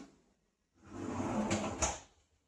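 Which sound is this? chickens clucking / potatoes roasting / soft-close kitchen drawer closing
soft-close kitchen drawer closing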